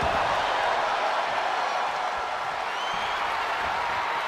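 A sold-out wrestling video game arena crowd roars steadily in a dense, unbroken wash of cheering and applause, loud and sustained throughout without a break.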